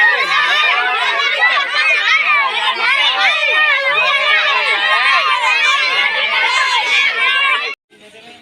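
A dense crowd chatters and shouts at a busy shop, loud overlapping voices and excited calls filling the space continuously before cutting off abruptly near the end.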